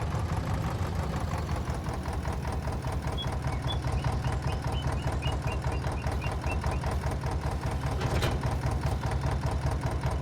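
A farm tractor engine runs steadily at idle, a continuous low chugging rumble close by with a brief clank near the end.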